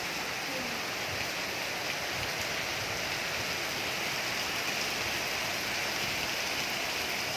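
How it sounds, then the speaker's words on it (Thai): Heavy rain splashing against a house window during strong wind, a dense, steady hiss of water that runs unbroken from start to finish at a fairly close, even level. "ฝนตก"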